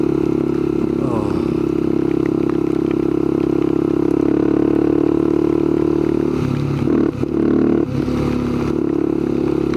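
A motorcycle ridden in the rain gives a loud, constant engine drone mixed with wind and spray roar, close to the rider, with a brief dip and rumble near the end.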